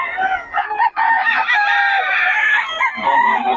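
Chickens and roosters at a market in Bocaue, several loud overlapping crows and clucks close by, continuing without a break.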